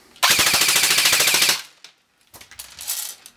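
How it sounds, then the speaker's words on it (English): An airsoft gun running on a 7.4 V LiPo battery fires on full auto, a fast, even burst of about a second and a half, followed by faint mechanical clicks and rustling. "Now let's see what it looks like in full auto."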